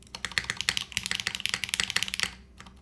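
Rapid typing on a DR-70F mechanical keyboard fitted with Curry switches and GMK keycaps, a close, crisp stream of clacky keystrokes in an uneven rhythm that stops just before the end.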